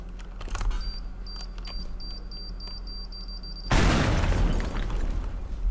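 A bomb in the destruction game Teardown beeps steadily as a countdown, then detonates in a sudden loud, broadband blast whose rumble and crumbling debris carry on to the end.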